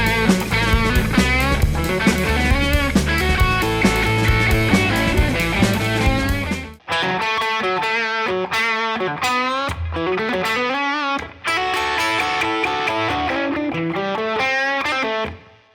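Electric guitar plays a distorted blues solo lick in A over a 12-bar feel, loud and sustained with bent notes and two brief pauses between phrases.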